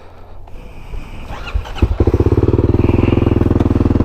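A Kawasaki KLX300SM motorcycle engine starts up and settles into a loud, steady rhythmic idle, close by, its pulsing throb continuing to the end.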